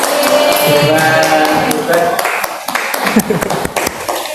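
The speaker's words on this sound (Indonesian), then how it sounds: "Tepuk tangan dulu buat kelompoknya Faris" A classroom of students claps for a classmate's group during a mathematics lesson, a loud burst that thins into scattered, uneven claps as the applause fades out.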